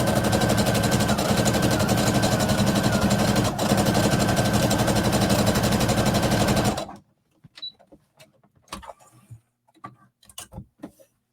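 A sewing machine stitches a jacket seam with a steady, loud mechanical whir for about seven seconds, then stops abruptly, leaving scattered soft clicks and handling noises.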